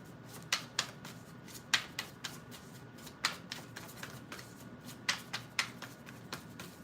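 A deck of oracle cards is shuffled close by and fairly softly, in short crisp riffling bursts of two or three quick flicks separated by brief pauses.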